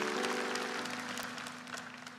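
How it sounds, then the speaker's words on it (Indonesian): Applause from a church congregation during a sermon, a dense steady clatter of clapping with a sustained musical tone underneath, gradually easing off. "kasih tepuk tangan untuk Tuhan"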